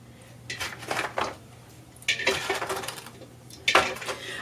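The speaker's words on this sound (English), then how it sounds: "So what we do is we drop our eggs in some water, cold water." Eggs dropped into a bowl of cold water make three separate clattering knocks and clinks against the bowl, each followed by a short splashy rattle, close by and moderately loud, with no talking.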